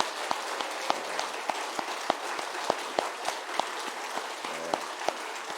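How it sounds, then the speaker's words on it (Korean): Church mission rally audience in Korea clapping together in a steady, even rhythm, sharp regular claps over a soft continuous patter of applause, moderately loud and without speech. "우리 다 들어갈 때까지 우리 박수로 뜨겁게 하겠습니다."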